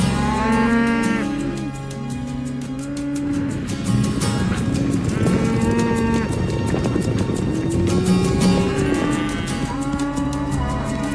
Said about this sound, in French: Y a pas à dire, c'est plein de vaches dans le coin.